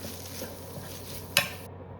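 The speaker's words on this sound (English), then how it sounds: "Saute till the tomatoes get mushy and starts leaving out the oil." Finely chopped tomato sautéing in a pan for a soya potato gravy, a quiet steady sizzle with a single sharp utensil clink near the end.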